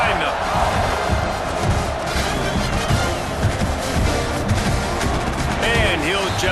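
A football stadium crowd at a Texas A&M vs Alabama game roars steadily and loudly, a dense continuous wall of cheering and noise without pause.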